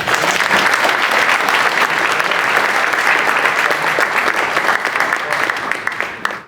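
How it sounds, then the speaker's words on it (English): An audience at a tech panel discussion gives the panel a round of applause, loud dense clapping that continues steadily and then fades out abruptly at the close. "Let's give our panel a round of applause real quick."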